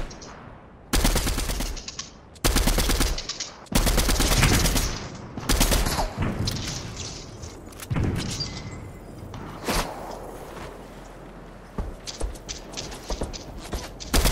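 Bursts of automatic gunfire in the video game Fortnite, several loud, dense volleys in quick succession, followed by scattered single shots and mechanical clatter, with no talking.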